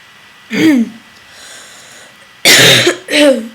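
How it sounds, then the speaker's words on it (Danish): A sick person coughs close to the microphone: one harsh cough, a quiet pause with light breathing, then two more rough coughs in quick succession. "Undskyld, hvis jeg hoster lidt, jeg er lidt syg."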